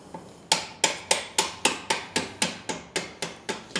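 A hammer pounds a bolt through a motorcycle rear cargo rack mount on a Janus Halcyon 450, about thirteen sharp metallic blows in an even, fairly quick rhythm, loud and close with no talking.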